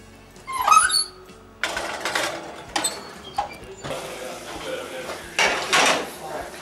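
A baking dish of potato cannelloni goes into an oven, with clattering metal and ceramic knocks, a squeaking oven rack sliding and a door clunking, several separate close bangs over a few seconds.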